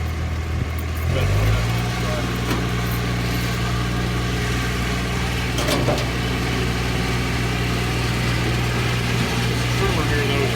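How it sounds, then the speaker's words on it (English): A string trimmer revs up in a yard and then holds a steady, droning engine whine. It is close and continuous, with faint outdoor background noise. "This trimmer does great."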